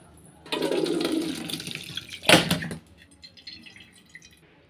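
Soaked sago pearls being strained, water pouring off in a steady broadband rush for about two seconds, then a louder brief splash as the last of it drains, followed by faint drips.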